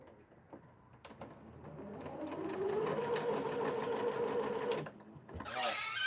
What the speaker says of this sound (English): now we're going to sew 2 of them together